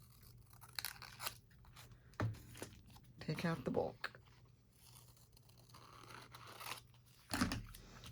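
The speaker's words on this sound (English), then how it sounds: "So I'm just going to take my scissors and just" Scissors snip and crunch through junk mail envelope paper while a window pocket with tag is made, quiet close cuts in short irregular bursts, with a person speaking briefly in between.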